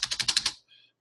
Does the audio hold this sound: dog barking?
no